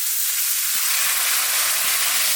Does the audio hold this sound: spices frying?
yes